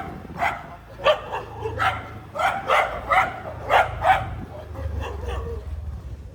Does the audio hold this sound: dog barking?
yes